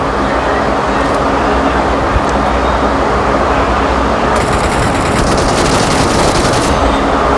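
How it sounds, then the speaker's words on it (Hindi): Dense gunfire in PUBG Mobile coming from behind the player, a steady roar of rapid automatic shots with broadband bursts that grow louder and busier toward the end. "पीछे से मुझे फायर आता है।"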